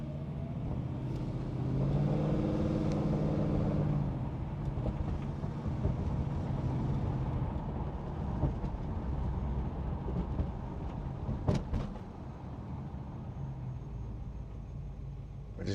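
A 1965 Ford Mustang restomod with an upgraded 302 cubic inch V8 driving, heard from inside the cabin as a steady low engine drone and road rumble, with a slight swell early on and a few knocks.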